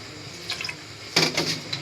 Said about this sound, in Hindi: हम इसमें थोड़ा सा पानी ऐड करेंगे